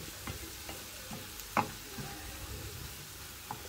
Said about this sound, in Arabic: اولا لحم الديك الرومي بدا كيطيب